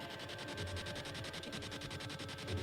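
An SB7 spirit box sweeps through radio stations, producing a rapid, rhythmic stutter of choppy static and broken radio fragments that pulses steadily and fairly loudly throughout, with no one talking over it.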